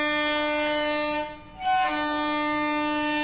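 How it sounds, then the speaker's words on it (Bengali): A train passes close by, its loud steady horn-like tones holding throughout with a brief dip midway before returning at full strength, no talk over it. "কি ট্রেনের আওয়াজ কথা বললেই।"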